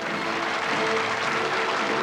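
Audience at the 1991 Miss France election applauds a contestant, a dense, continuous clapping from a large hall crowd, loud and unbroken throughout.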